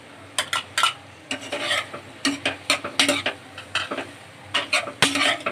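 Capsicum for pasta is stirred in a hot pan, a steady run of quick rhythmic scraping strokes with a light sizzle underneath, close and clear.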